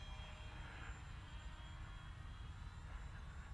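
An electric radio-controlled Pterosaur 1400 model plane on a 3S battery flies slowly at minimum throttle, its soft steady motor whine carried over constant low wind rumble, distant and faint, with no talk.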